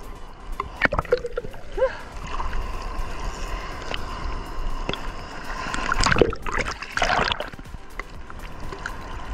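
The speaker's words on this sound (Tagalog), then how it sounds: "Lalaki ng mga alon dito." Sea waves splash and slosh against a small fishing boat, steady water noise with a couple of louder surges, while a voice talks faintly underneath.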